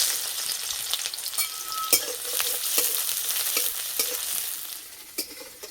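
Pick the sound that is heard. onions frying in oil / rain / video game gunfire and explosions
onions frying in oil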